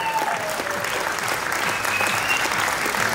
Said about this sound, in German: Großer Applaus für diese Damenklasse.